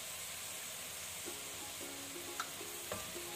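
Lamb with turmeric, salt and spices stirred in a pot, a faint continuous sizzle with scattered light scrapes and clinks of the spoon, no talking.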